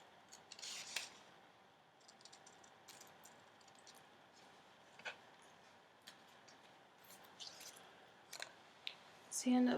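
Paper heart shapes cut out with scissors: quiet, scattered snips and rubbing paper rustles at a low level, with a few sharper clicks, close and sparse.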